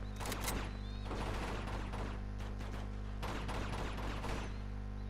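Enemies shooting in Uncharted 2: Among Thieves, rapid bursts of gunfire crackling over a constant low hum, in several volleys of moderate loudness, with no talk.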